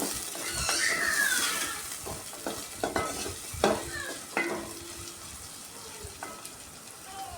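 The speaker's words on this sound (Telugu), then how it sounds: "బాగా వేగాలండి పర్ఫెక్ట్గా వేగినప్పుడు మనకి కర్రీ టేస్ట్ వస్తుంది" Green chillies and curry frying in a pan while a spoon stirs, giving a steady sizzle with sharp scraping strokes and clinks spread through the clip, close and moderately loud.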